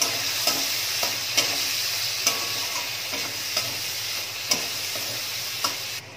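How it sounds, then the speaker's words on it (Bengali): Chopped tomatoes with salt fry in a pan as a constant close sizzle, broken by regular scraping strokes of a spatula stirring about once a second. No voices are heard. "এবার টমেটোটা একটু ভাজা ভাজা করে নিচ্ছি।"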